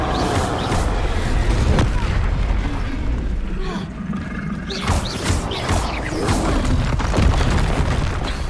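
Repeated Confringo and Incendio spell blasts from the Hogwarts Legacy video game, a dense run of booming explosive bursts with fiery crackle, loud and continuous, with a voice calling out spell names over the action.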